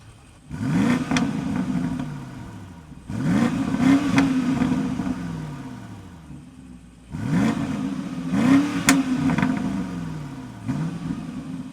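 A BMW X6 M50i in sport mode is revved three times, each rise sweeping up and falling back, with pauses between, heard up close with no talking.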